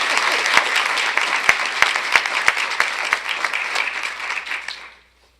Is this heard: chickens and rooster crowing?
no